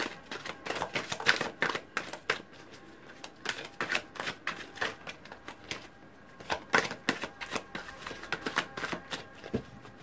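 Tarot cards being shuffled in a long run of quick, crisp clicks and riffs, steady in rhythm and close by, with no voice over them.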